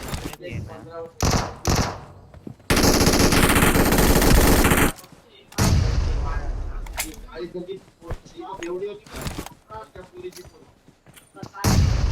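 Gunfire in a BGMI battle royale mobile game squad fight: bursts of rapid automatic shots, one long sustained volley and sharp single cracks, loud and close, with a voice talking between bursts.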